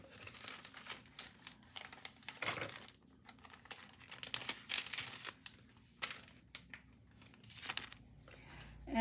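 Dry paper crinkling and rustling as a card is creased and folded by hand, irregular crisp bursts of handling noise close to the mic, with no talking.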